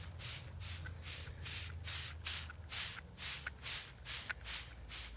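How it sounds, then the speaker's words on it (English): Waterproofing product sprayed onto a tent, a run of about a dozen short hissing bursts in quick rhythm, close and fairly quiet, with faint rubbing in between. "give it a really good spray."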